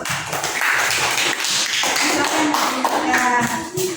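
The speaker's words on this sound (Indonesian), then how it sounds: "Berikan tepuk tangannya dulu" Classroom audience clapping after a student group's presentation, a scattered patter of hands from nearby students lasting a few seconds, with a voice speaking over it toward the end.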